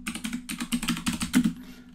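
Quick bursts of clicky keystrokes on a computer keyboard, typed close up in uneven rhythmic runs with short gaps between them, and no voices.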